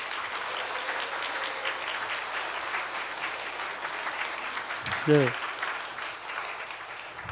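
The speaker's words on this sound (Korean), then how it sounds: "박수로 크게 맞아주시기 바랍니다" Sustained applause from a church congregation, steady clapping throughout, with a brief spoken word from a man partway through.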